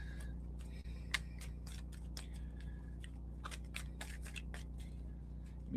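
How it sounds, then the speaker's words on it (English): Tarot cards being shuffled during a live reading, a run of soft crisp riffling clicks and taps, fairly close and quiet over a steady low background hum. "I'm going to shuffle my cards again"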